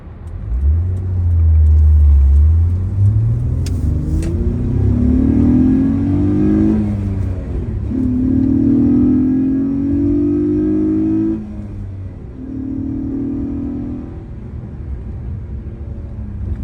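A boosted CG5 Honda Accord fitted with a cold air intake revs hard, its engine climbing from a low idle rumble into loud rising pulls that fall back and surge again, close and unaccompanied by talk.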